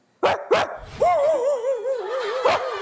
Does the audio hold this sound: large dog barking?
yes